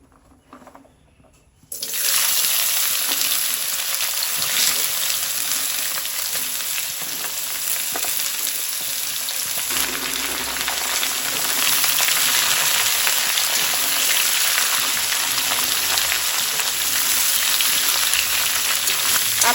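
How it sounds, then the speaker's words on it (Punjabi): Cut carrots drop into hot oil over a medium gas flame for pickle-making, setting off a sudden loud, continuous sizzle that stays steady and dense throughout, with no talking. "ਆਪਾਂ ਗਾਜਰਾਂ ਨੂੰ 5-7 ਮਿੰਟ ਵਾਸਤੇ ਫਰਾਈ ਕਰਾਂਗੇ"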